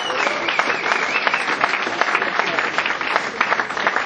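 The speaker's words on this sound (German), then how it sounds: "ja, das hat einen Applaus verdient." Sustained applause fills a room at an ice hockey press conference, dense steady clapping from a group at close range.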